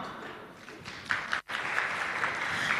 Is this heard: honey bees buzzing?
no